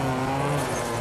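Rally car engine in the WRC 3 video game, driven into a hairpin turn with the handbrake; a steady, loud engine roar with tire noise fills the brief moment without a break.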